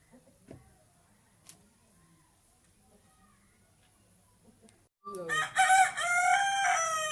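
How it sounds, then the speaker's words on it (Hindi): A rooster crows loudly and close after a quiet stretch with faint background noise, its call sustained and harmonic, among backyard chickens including a broody hen. "ये एक मुर्गी कुड़क बैठी हुई है"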